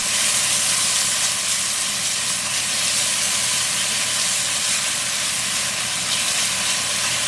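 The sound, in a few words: garlic and pimento seasonings frying in a pot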